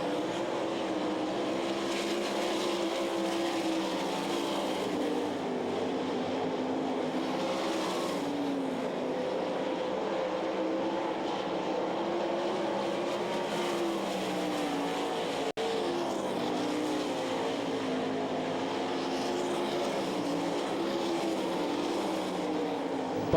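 Sprint race cars roaring through a heat race at the Knoxville Nationals dirt track, a continuous loud engine drone with rising and falling pitch as cars pass, with no pauses.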